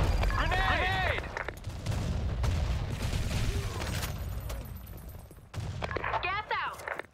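A grenade blast and bursts of automatic gunfire in the Blackshot shooter game, a long busy exchange of shots in the middle distance, with game voices shouting over it.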